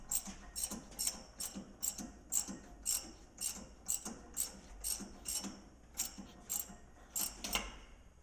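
A socket wrench ratchets a 1 inch socket on a Farmall Super H tractor during restoration. The clicking bursts come close and clear in a regular rhythm, about fifteen short strokes in a row.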